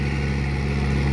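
A Kubota MU-6240 tractor engine drones steadily while plowing a rice field in Laos, a continuous close, even rumble with no talk.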